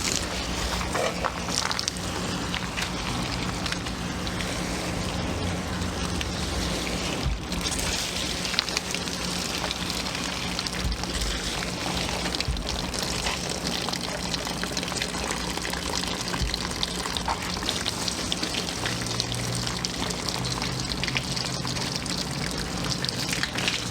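Water pours steadily onto potted tomato and pepper plants sitting in bottom trays, a continuous close splashing and trickling wash that holds evenly throughout with no pauses.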